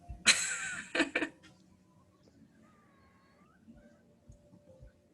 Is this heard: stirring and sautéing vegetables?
no